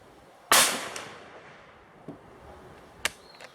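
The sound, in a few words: Zastava M48A 8mm Mauser rifle shots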